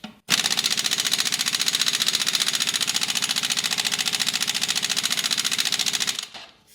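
Loud, rapid hammering rattle of an impact wrench driving an impact extension to loosen a wheel lug nut, a continuous fast burst of about six seconds heard up close, starting and stopping abruptly.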